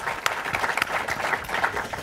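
Audience applause at a university event, a short burst of close, lively clapping with a few distinct sharp claps standing out, moderately loud and without talk.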